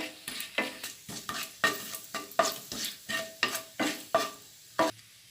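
Whole cumin seeds in hot oil, with garlic about to go in, are stirred in a pan, giving a string of crisp rhythmic scraping strokes over a soft sizzle, close and fairly quiet.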